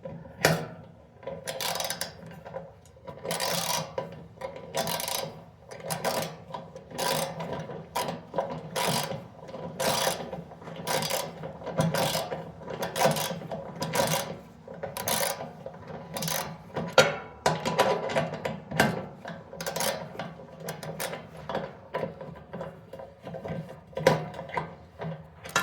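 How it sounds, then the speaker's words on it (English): A half-inch socket wrench ratchets repeatedly, close up, with irregular clicking bursts while running boards are fastened onto a Tesla Cybertruck. No voices are heard. "Got my own socket wrench. It's a 1/2 inch."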